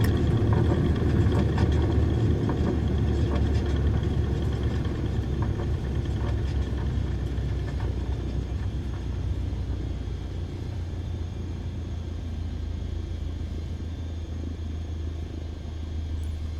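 A light aircraft in Microsoft Flight Simulator on a first solo landing gives a steady, loud engine rumble and whir that eases slightly as it touches down and brakes, with no voices over it.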